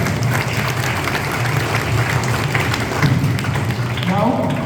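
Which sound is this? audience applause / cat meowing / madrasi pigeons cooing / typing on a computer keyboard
audience applause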